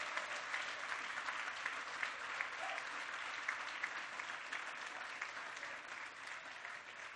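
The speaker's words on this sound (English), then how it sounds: "Let's give her a round of applause." Steady audience applause at a construction-site event at the National Urban League headquarters in New York, a dense, even wash of clapping that holds throughout without a break.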